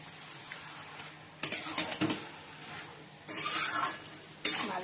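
Cabbage and dalia being stirred in a pan, bursts of scraping and clattering spoon strokes over a soft background sizzle, close by and uneven in rhythm.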